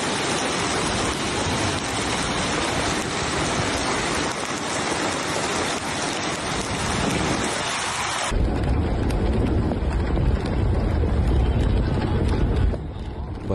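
Hailstorm with thunder in Saudi Arabia, a dense, loud, continuous roar of hail and rain pounding surfaces, with deep rumbling thunder growing heavier partway through.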